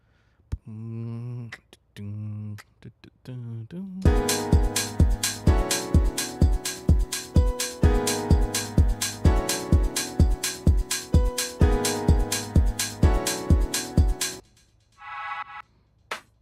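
A programmed kick drum and hi-hat pattern built in Serato Studio plays for about ten seconds as a steady, loud, looping beat. Brief melodic tones come before it, and a short tonal sound follows.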